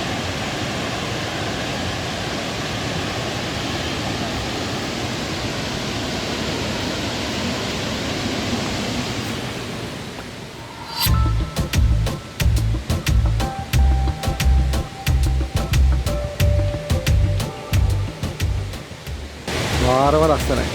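Bomburu Ella waterfall in Sri Lanka roars with a loud, steady rush of falling water for about ten seconds, then fades lower as people talk close by over the continuing flow.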